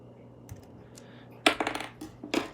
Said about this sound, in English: Then we snip off this D-rib right here.